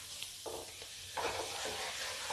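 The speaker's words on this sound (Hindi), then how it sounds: "इसमें 1 चम्मच हींग डालती हूँ, 2 चम्मच हल्दी पाउडर। मैं इसको हिला देती हूँ" Asafoetida and turmeric powder stirred into hot oil in a pan with the gas turned off, a soft continuous sizzle with faint scraping stirs; no talking.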